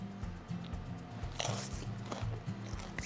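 Someone biting into brie cheese and cranberry pull-apart bread, a few crisp crunching bites followed by soft chewing, close to the microphone over faint background music.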